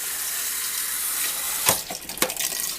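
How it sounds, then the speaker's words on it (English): Water runs steadily from a kitchen tap with an unregulated spout into a cooking pot of mushroom soup vegetables, a constant close hiss broken by a couple of sharper splashes near the end. "Now, I'm going to go ahead and fill it with water."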